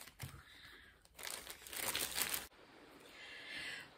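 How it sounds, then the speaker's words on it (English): Leftover craft filling being pushed back into a bag while making a gnome: close, crinkly rustling with a denser, louder burst of crackling in the middle, then softer crumpling, with no talking. "So I'm now going to endeavour to get the rest back in this bag."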